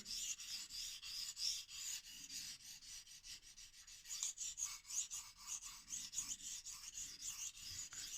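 A Kai damascus kitchen knife being sharpened on a 1000 grit Shapton whetstone, close, rhythmic rasping strokes repeated steadily back and forth, fairly quiet and with no talking.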